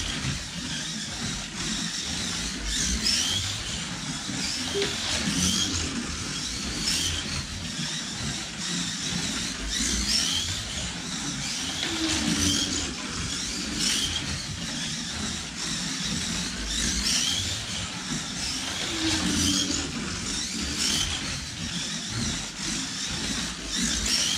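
A GT3 race car during qualifying gives a loud, steady mechanical whine over constant engine drone, holding an even level throughout with no talking.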